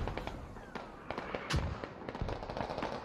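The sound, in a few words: mortar shells exploding in a video game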